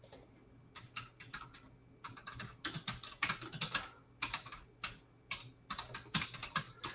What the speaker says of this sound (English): So this is what I'm typing right here.